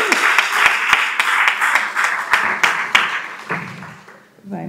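A conference audience on Portuguese women's labour situation claps steadily, scattered loud individual claps over a broad wash of applause that fades out near the end.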